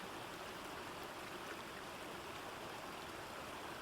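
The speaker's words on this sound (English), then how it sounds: "They stepped into the stream, feeling the cool water wash over their feet." A stream of flowing water runs steadily and close by in a jungle setting, a continuous rushing wash that stays even in level from start to end with no voices.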